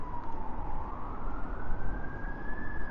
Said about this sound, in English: he goes 5 miles per hour on that highway, screaming with the sirens